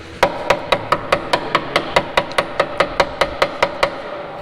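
Quick, evenly spaced hammer blows strike the metal chassis of a Lexus RC F that is being cut for wider front wheel and tire fitment, about eighteen sharp, close knocks in a steady rhythm.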